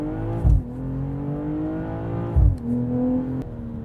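A BMW M440i Gran Coupe (G26) engine and exhaust accelerating hard, rising harmonic drone climbing through the gears with two brief shift breaks, loud and close with no talk.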